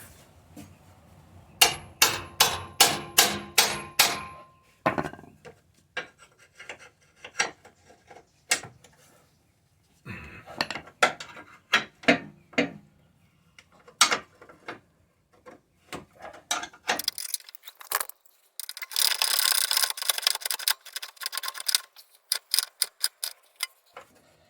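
The top rear leaf-spring shackle bolt comes out of a 1996 Jeep Cherokee XJ 4x4: a fast run of metallic ratchet clicks, then scattered clanks, taps and rattles of tools and parts, with another quick ratcheting burst near the end.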